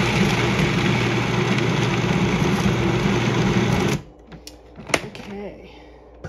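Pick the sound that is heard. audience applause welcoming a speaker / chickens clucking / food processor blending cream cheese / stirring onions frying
food processor blending cream cheese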